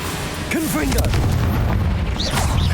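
Fiery Confringo spell blasts in Hogwarts Legacy, a game set at a wizarding school, boom over a dense rumbling bed of combat noise, with brief whooshing swells and a voice briefly audible.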